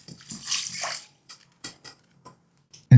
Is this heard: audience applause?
no